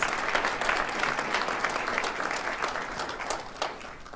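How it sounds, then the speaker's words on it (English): Steady applause fills a hall at a graduation ceremony for college board trustees, dense, even clapping from a large audience, sustained throughout with no voices on top. "Could you give them a round of applause?"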